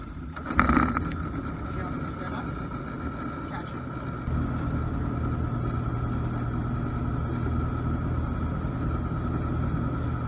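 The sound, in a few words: Cessna 172 engine and propeller running after startup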